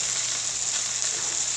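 Chicken sears in a pan with olive oil and a spritz of cooking spray, giving a steady, close, even sizzle with no talk over it.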